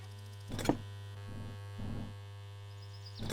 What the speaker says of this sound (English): That buzzing you hear is the sauna.